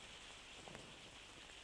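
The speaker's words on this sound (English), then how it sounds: "the rain has started here, so you may be able to hear the rain on the roof" Rain falling on a roof makes a faint, steady, even hiss that continues throughout, with no voices.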